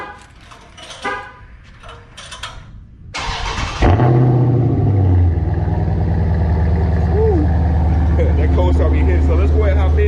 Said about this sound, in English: go ahead and get the cold start